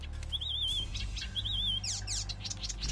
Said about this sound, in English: Shut up, bird.